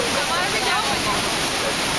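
From a sightseeing boat, the thundering cascade of Niagara Falls fills everything with a dense, constant roar, steady and close, with speech barely emerging beneath it.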